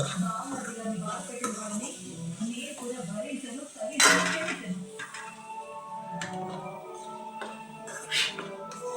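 Egg curry being stirred and mashed in a pan, giving steady scraping and clinking of a utensil against metal, with a sharper clatter near the middle and another toward the end.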